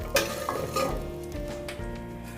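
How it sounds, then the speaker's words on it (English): Garlic and shallots sauté in rendered pancetta fat, sizzling steadily in a pan with a few light stirring scrapes, close up and without talk. "We're gonna use that rendered fat drippings to saute our garlic and our shallots."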